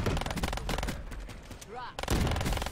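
Rapid bursts of RK5 pistol gunfire in a video game, loud and close, with repeated shots crackling before and after a short lull; a voice speaks faintly underneath.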